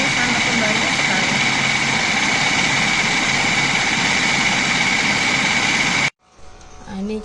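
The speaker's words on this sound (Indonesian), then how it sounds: "ini kita berhentiin dulu mesin food prosesornya ya." Food processor blending a white Indonesian spice paste, a loud steady motor whir running continuously for about six seconds before cutting off abruptly, then quiet kitchen sounds.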